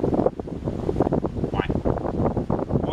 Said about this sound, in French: Je suis juste pas chanceux aujourd'hui, il vente.